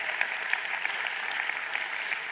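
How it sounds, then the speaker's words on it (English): A crowd at a ministerial announcement of exam results claps steadily, a dense patter of many hands applauding at a moderate distance, with no voices standing out. "Applause, please, for our Minister of Basic Education, Siphiw"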